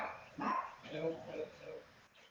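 Dog barking indoors after raiding a cheese bag left on a kitchen counter, a few short yips and whimpery barks at moderate distance, mixed with a person talking nearby.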